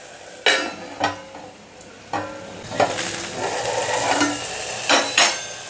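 Budamkaya (yellow cucumber) moong dal curry is stirred in a pan, with a soft sizzle and several sharp utensil knocks against the pan, close and fairly loud.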